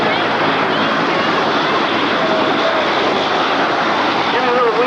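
A ski-equipped airplane, at full flap with skis down, flies past at an air show, its loud engine drone steady and continuous while an announcer talks over it.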